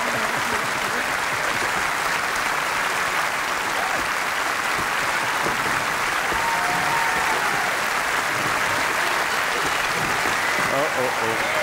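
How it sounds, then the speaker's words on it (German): Dense, sustained applause from a large concert audience at a show, loud and even throughout, with faint voices mixed in. "Applaus für unsere beiden Schweden."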